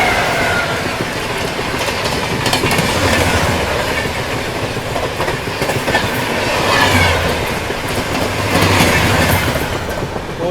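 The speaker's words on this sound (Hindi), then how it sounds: "कोटा जनशताब्दी आ रही है तो उसके साथ आप लोगों को क्रॉसिंग दिखाते हैं" Kota Jan Shatabdi Express from Hazrat Nizamuddin passing at a railway crossing, a loud steady rumble with rhythmic clickety-clack of wheels over rail joints swelling as the coaches roll by, with no talk.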